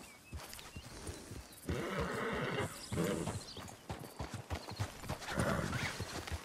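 A horse in Red Dead Redemption 2 whinnies and snorts amid clopping hooves and shuffling, with a loud neigh rising midway and another toward the end.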